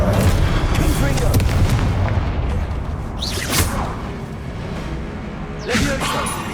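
In the Hogwarts Legacy video game, a Confringo fire spell fires off in booming blasts with sharp whooshing bursts, set against a dense, steady rumble of combat sound.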